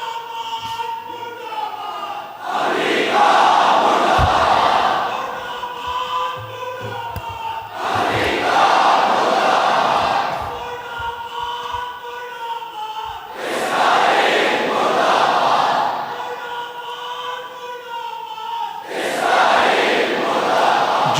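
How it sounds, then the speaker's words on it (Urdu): A large crowd at a Pakistan-Iran solidarity gathering roars slogan responses in four loud, fervent waves, each lasting a few seconds and separated by quieter pauses. "نعرے کا جواب آپ بہت جوش کے دے رہے ہو"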